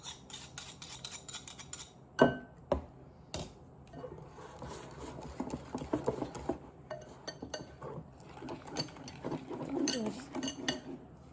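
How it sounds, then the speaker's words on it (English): A whisk scrapes and clinks around a bowl while boom boom sauce with honey is mixed, busy irregular metallic stirring throughout, close and moderately loud. "Whisk it, make sure the honey's all no lumps."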